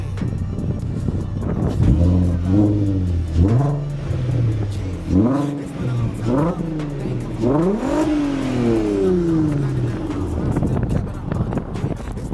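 A VW Caddy Maxi van with a swapped-in R32 engine and DSG gearbox starts on the key, then revs repeatedly in sharp rising and falling bursts, loud and close against wind noise.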